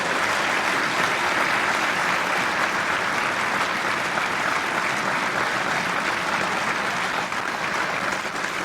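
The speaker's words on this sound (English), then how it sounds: "How about a round of applause?" Crowd at a military change of command ceremony breaks into strong, sustained applause, a thick and even wall of clapping lasting several seconds.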